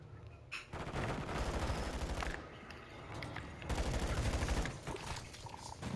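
Rapid bursts of gunfire in a multiplayer shooter video game, dense automatic volleys that pause and then resume, loud and close with a constant crackle.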